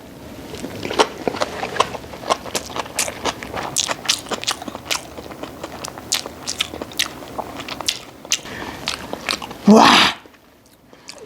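Butter-grilled abalone being bitten and chewed up close, a steady run of crisp, wet crunches and mouth clicks over about ten seconds, ending in a short louder rustle, with no talking.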